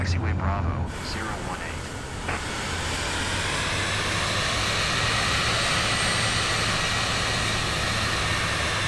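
A jet airliner taxiing in Microsoft Flight Simulator 2024, a steady loud engine whine and roar with a low hum underneath, constant throughout with no talk.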